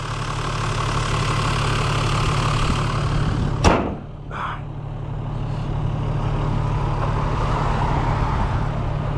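A 1992 Toyota Land Cruiser's 4.2L turbo diesel idles with a steady, close, droning rumble, broken once midway by a sharp click and brief clatter before the even idle continues.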